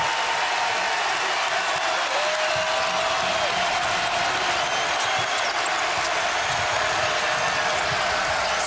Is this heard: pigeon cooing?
no